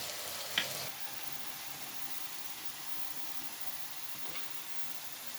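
Steady, fairly quiet sizzle of diced potatoes frying in oil, an even hiss with a single sharp tap near the start and a faint click later.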